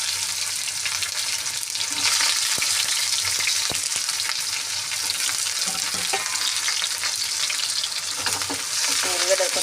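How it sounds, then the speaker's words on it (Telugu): Onions sizzle and crackle steadily in hot oil over seasoning spices for an eggplant curry, a loud continuous frying hiss with occasional stirring clicks. "పోపు అయితే వేగిపోయింది. ఇప్పుడైతే ఉల్లిగడ్డ వేసుకుందాం."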